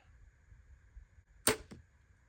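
A single arrow strikes a 3D archery target on an outdoor practice range, a sharp loud thwack with a brief trailing rattle, standing out against quiet background hiss.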